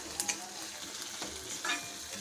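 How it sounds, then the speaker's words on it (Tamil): Soft, steady sizzling of onions sautéing in sesame oil for a garlic gravy, with occasional light stirring clinks, quiet and close, no voices. "இப்போது இந்த வெங்காயம் நல்லா வதங்கட்டும்."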